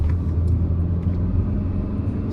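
A Mahindra XUV 3XO in sports mode cruises a highway in second gear, its engine giving a steady, deep rumble with road noise. The drone is continuous and close, with slight swells and no talking.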